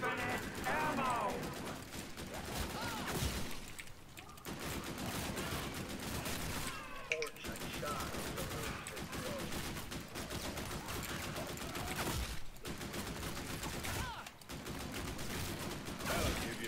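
Sustained rapid gunfire in a video game with unlimited ammunition, dense and continuous bursts with brief gaps, loud throughout with a voice talking over it.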